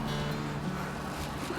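Pigeons coo softly in a low, steady murmur against faint outdoor background noise, with no one speaking.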